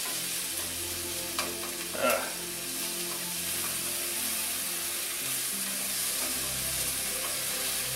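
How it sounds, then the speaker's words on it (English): Shallots caramelize in a hot pan with a constant close sizzle, and a brief stir or clatter cuts in early on. "We're really caramelizing the shallots now."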